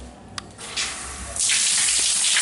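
Water from a home shower starts running, a soft hiss that swells into a steady, loud spray and keeps pouring after a faint click.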